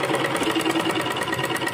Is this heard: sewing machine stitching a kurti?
yes